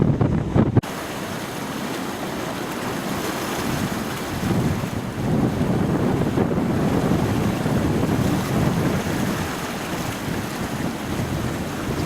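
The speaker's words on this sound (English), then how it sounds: "Quite spectacular waves coming in here." Rough ocean surf at Fuerteventura rolls and crashes continuously, a broad roaring wash with wind buffeting the microphone throughout.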